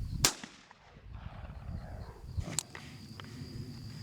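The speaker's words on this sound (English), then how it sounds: "All right, this is gonna be a 12-gauge shotgun." A 12-gauge shotgun fires twice, each a sharp, loud crack with a decaying outdoor echo, on a sound-effects recording session for military weapons.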